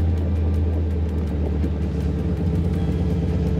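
A Roadster car driving slowly around a block, with a steady, even engine rumble and road noise heard from inside the cabin, continuous and fairly loud, with no talk.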